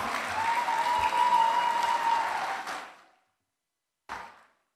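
An audience at an event for the Kedah Science Center at Kulim High Tech Park applauds loudly and steadily for nearly three seconds, fades to silence, then a second short burst of clapping follows.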